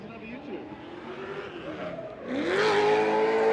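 BMW drift car at a competition event, its engine rising as it accelerates hard into the first corner with tire squeal, loud and building, with a commentator talking over it.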